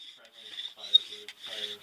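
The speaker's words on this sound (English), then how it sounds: "So two-person natural fiber cordage bow drill." A two-person bow drill spun with natural fiber cordage makes a dry, rasping wood-on-wood rub in uneven back-and-forth strokes, close and moderately loud, with short pauses between passes.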